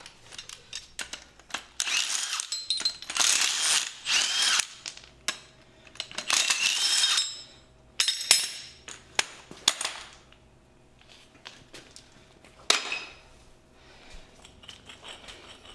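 Worn wheel bearing and hub pulled from a 2013 Audi A4 2.0T B8.5 being spun by hand, giving rough grinding and rattling bursts with sharp metallic clicks, loud and close, alternating with quieter gaps.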